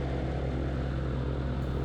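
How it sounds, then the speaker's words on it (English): An autogyro's Rotax engine warms up nearby before takeoff, a steady drone and continuous low rumble with a buzzing propeller tone and no breaks. "First you get to warm the engine and then to get the RPMs on the blades up to speed"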